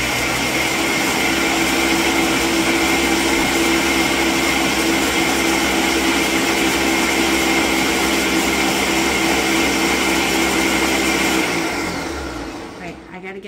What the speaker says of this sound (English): she said blend this on low just to mix it